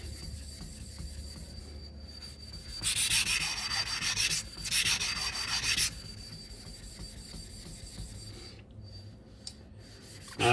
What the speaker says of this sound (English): I'm just gonna give this a little bit more of a 1200 Atoma lapping